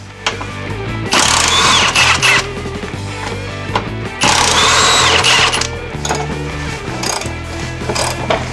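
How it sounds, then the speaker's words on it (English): Track bar bracket being removed from a Jeep Cherokee XJ, with loud ratcheting and mechanical clicking from tools in two longer bursts among shorter ones, close up and without talk. "we can finish up removing this track bar bracket"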